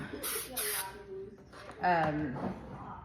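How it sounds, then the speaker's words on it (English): Clear-coat spray paint comes from a can onto a mirror frame in two short, sharp hissing bursts, followed by a person talking quietly. "we're spraying the clear on"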